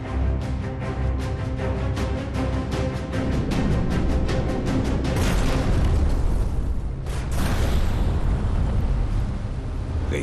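A WWII U-boat torpedo strikes a merchant ship, heard as a loud, sustained dramatized rumble of blasts with a fresh heavy burst near the end, dense and continuous throughout.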